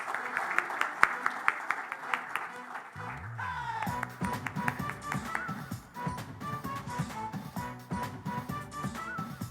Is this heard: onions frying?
no